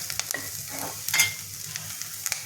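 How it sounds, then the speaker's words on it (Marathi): Onions sizzle steadily in hot oil, frying to a deep red-brown, with occasional scraping clicks from stirring, close up and without any talking. "हा आपण कांदा चांगला लाल भाजून घेतला आहे"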